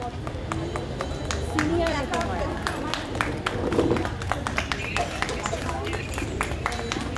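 A group of old schoolmates at a reunion clap their hands together, a loose, uneven patter of many claps running throughout, with voices talking over it.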